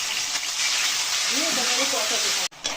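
A spice paste of ginger and dried chillies fries in a pan, giving a steady close hiss and crackle with faint stirring, broken by a brief cut near the end, and a voice speaking partway through.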